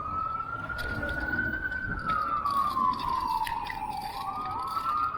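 An ambulance siren wails through a Philadelphia city street, heard from a bicycle, its tone sliding up and down in a long sweep over steady traffic rumble, fairly close and clear.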